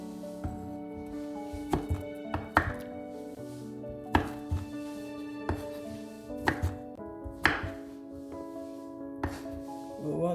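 A knife chops plantain into small cubes on a board, delivering a dozen or so distinct thunks at an uneven pace, moderately close and clear over a faint background hum.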